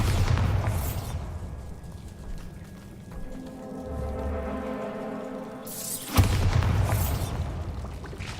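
Bombarda blast spell in Hogwarts Legacy, a heavy booming explosion with crackling debris, a quieter stretch of tonal magical hum, then a second sharp boom erupting into noisy rumble.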